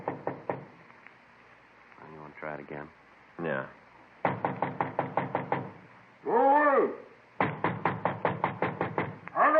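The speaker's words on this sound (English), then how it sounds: "Frank and I went up to the 4th floor and knocked at the door." Sharp knocking on a fourth-floor apartment door, several quick bursts of raps in close rhythm, broken up by short spoken exchanges between men.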